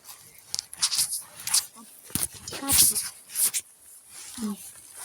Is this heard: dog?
yes